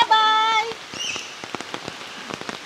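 Rain falling at night in Coron, Palawan, heard as scattered close patters and drips on a surface after a short tonal sound at the start, with no talking.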